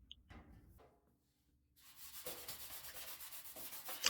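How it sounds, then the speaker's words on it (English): A small flap wheel grinds against car body sheet metal at the trunk pan and wheelhouse repair area, starting after a quiet pause as a continuous rough abrasive hiss that swells toward the end, close and alone. "And we're just using a little flap wheel here."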